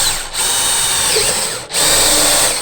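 A power drill bores a deep hole in wood for a stool, a loud, continuous whine that runs steadily, broken by two brief dips where the trigger eases, with no talking.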